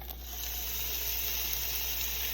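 Egg and cheese for a keto chaffle sizzle inside a closed waffle maker, a steady soft hiss of frying and steam that continues without a break and with no talking.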